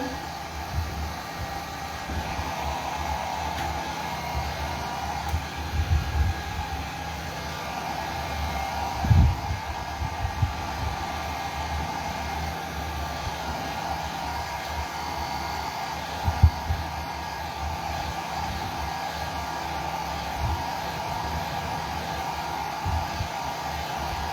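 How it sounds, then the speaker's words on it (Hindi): A hair dryer blows steadily on alcohol ink artwork, a loud continuous airy whoosh with a constant hum, broken by a few soft low thumps as it is moved. "again with the help of dryer"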